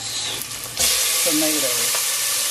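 Tomatoes hit a hot pan for pochero and set off a sudden loud sizzle, with stirring scrapes over the steady frying hiss.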